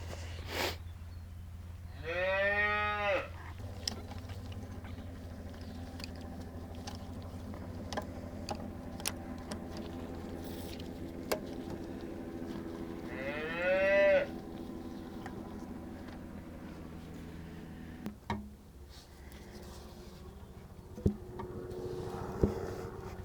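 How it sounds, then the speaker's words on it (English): A cow bawling while grazing on grass: two long drawn-out moos rise from a quiet pasture, one early and one midway, with faint farm background noise between them. "the funny thing is, Darla, if you can hear her bawling, she keeps bawling over there"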